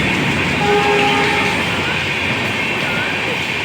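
A train running through Bisharpara station on a suburban railway, a loud, steady close rumble with wheel clatter and faint horn-like tones throughout, without any station announcement.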